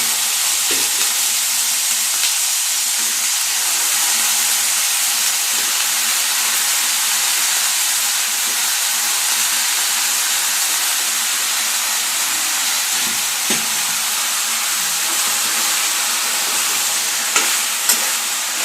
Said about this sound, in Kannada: ಈಗ ನಾನು ಬಾಳೆಕಾಯಿ ಹಾಕೊತಾ ಇದ್ದೀನಿ